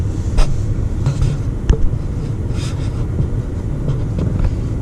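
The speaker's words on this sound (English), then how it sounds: "There's slight engine noise" Mercedes-Benz S550 driving on a city street, heard from the quiet cabin as a steady, subdued low rumble of engine and road noise with a few faint clicks and no talking.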